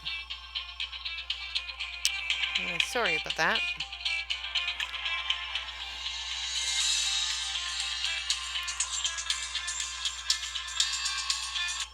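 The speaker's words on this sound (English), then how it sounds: "I'm trying to figure out how to shut it up. It's on the home phone so they can leave a message on my answering machine." A home landline telephone rings in a room, with a short electronic ring burst standing out clearly over steady background hiss, followed by a person speaking briefly.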